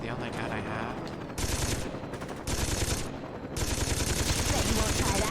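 Sustained automatic gunfire from the player's weapon in the game Saints Row, coming in loud continuous bursts separated by brief pauses.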